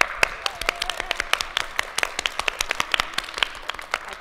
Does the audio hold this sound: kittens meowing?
no